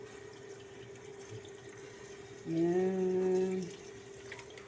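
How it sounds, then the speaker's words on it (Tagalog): Water poured into a pan of cabbage and liver cooking on the stove, a steady splashing pour lasting about a second under low kitchen hum, with a voice speaking briefly beforehand. "Tapos lagyan natin ng tubig"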